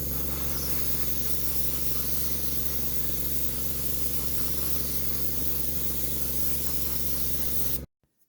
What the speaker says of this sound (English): I'm going to give it a coat of matte varnish.